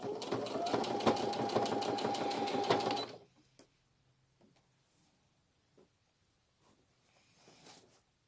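A sewing machine stitches a fabric bodice in a loud, rapid, continuous whir for about three seconds, then stops, leaving faint handling noises.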